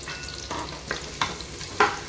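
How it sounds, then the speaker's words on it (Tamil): Sliced large onions sautéing in hot oil with spices for tomato biryani, a steady close sizzle broken by a few sharp scrapes of a spoon stirring the pan, no voices. "இதில் 2 பெரிய வெங்காயத்தை இந்த மாதிரி நீல வாக்கில் கட் பண்ணதையும் சேர்த்து நல்லா வதக்கிக்கலாம்"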